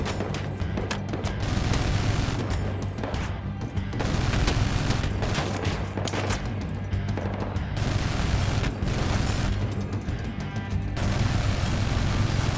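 Enemy weapons firing in Battlefield Hardline, with loud, continuous bursts of gunfire and heavy booms packed throughout, pausing only briefly between volleys.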